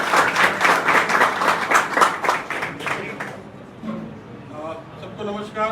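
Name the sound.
loud applause at press conference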